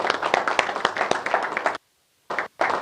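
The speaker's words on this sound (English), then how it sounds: "Applause again." Audience applause at a talk on earning money, a dense burst of clapping for nearly two seconds that stops abruptly, then two short clusters of claps follow.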